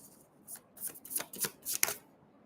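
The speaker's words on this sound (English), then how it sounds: "Let's get one more card from this deck." Tarot cards shuffled and drawn from a deck at close range, a quick series of soft riffling bursts with crisp papery flutters, no talking.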